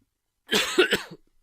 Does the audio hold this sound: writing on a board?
no